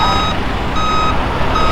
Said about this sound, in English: And here we have some big trucks with